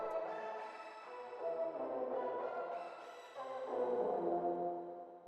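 A custom, choir-like Sytrus synth pad in FL Studio swells in soft, sustained chords with a breathy vocal tone, playing quiet and alone as the harmony shifts gently over several seconds.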